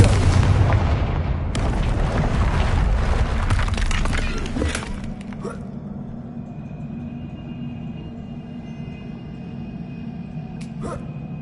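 A Confringo fire spell explodes in Hogwarts Legacy with a loud, roaring blast that rumbles for several seconds, then fades into a quieter ambient hum with a couple of faint distant knocks.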